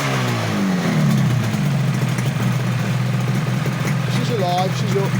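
A repaired vehicle engine, airbox still off and bodywork not yet fitted, runs steadily close by with a low, even drone and a slight rise in pitch near the start.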